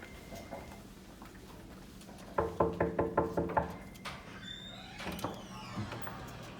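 Knocking on a front door, a quick run of about seven sharp raps in steady rhythm, fairly close and loud, followed by fainter door sounds and shuffling.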